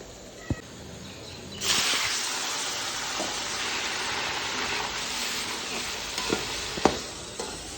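Frying and stirring while browning ingredients for chicken pulao: a steady sizzle starts abruptly and continues, with occasional sharp clinks and scrapes of the stirring utensil, close by.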